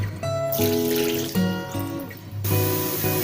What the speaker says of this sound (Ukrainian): заливаю водою 4 стакани і буду тушити